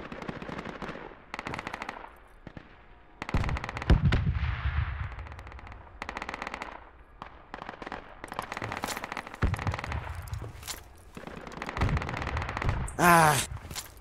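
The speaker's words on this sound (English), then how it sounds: "The grenade exploded right next to him, but he was still able to kill me." A grenade explodes amid bursts of machine-gun and rifle fire in a squad-based shooter video game: rapid rattling volleys start and stop, a heavy boom lands near four seconds, and a loud blast and sharp shots follow near the end.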